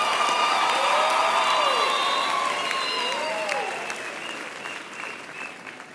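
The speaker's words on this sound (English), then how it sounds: "Give yourself another round of applause." A large audience at a university graduation ceremony applauds in a dense, sustained wash of clapping that slowly fades. Some cheering sounds over it, and voices can be heard in the crowd.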